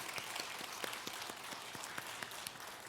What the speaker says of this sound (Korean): 아직 마친 거 아닌데 끝난 것처럼 이렇게 박수하는데